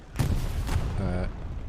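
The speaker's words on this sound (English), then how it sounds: "the artillery drops in" Artillery shells land in the World War II shooter Hell Let Loose during a 49-versus-49 match: two sharp, heavy blasts about half a second apart, followed by a voice talking over the fading rumble.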